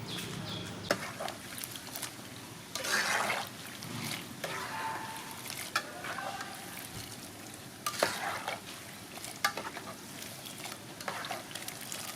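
Cashew nuts fry in hot oil in a pan, a steady close sizzle broken by repeated scraping bursts as they are stirred, with no voices.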